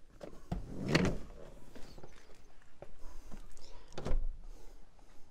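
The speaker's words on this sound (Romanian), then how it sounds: "este foarte, foarte simplu să coborâm spătarele scaunelor" Rear seat backrests of a 2013 Ford Kuga folded down, giving a few close mechanical clunks and clicks, with a sharp thump near the start and another later, alone with no talk.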